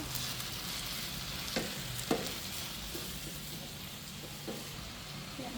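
Mushroom curry is stirred in a pan, giving a steady sizzle with a few scraping knocks from the spoon, close by and continuous with no talking.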